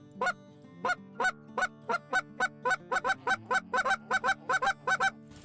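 A goose call blown with tongue-clucked notes, a steady series of about eighteen short honking clucks, evenly spaced and gradually quickening, close and loud with no talk.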